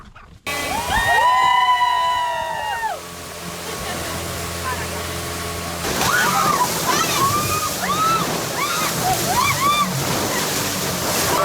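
Boat ride where spray and waves wash over drenched passengers in the back, a steady loud rush and slosh of water with a motor droning beneath and people's voices calling out.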